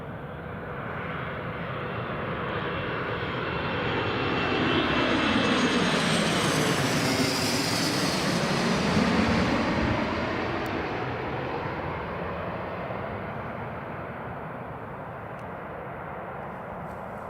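A Loganair airliner touches down at Glasgow Airport, its engine roar swelling steadily as it passes close by, then holding at a loud, broad rumble with no voices.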